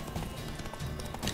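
Horse hooves clop in quick rhythm through a brief battle sequence in The Witcher 3, fairly faint and mixed with other game sounds.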